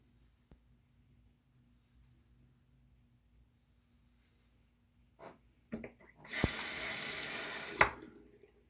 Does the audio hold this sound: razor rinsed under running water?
yes